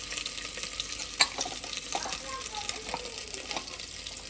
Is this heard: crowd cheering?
no